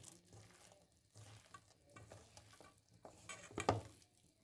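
Fish fritters made with flour and a ginger, garlic, onion, chili and potato paste fry in oil, giving a soft continuous sizzle with stirring and a brief louder clatter near the end.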